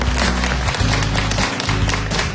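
A studio audience at a Korean TV variety show claps warmly and loudly, a dense continuous patter of many hands with a low hum beneath.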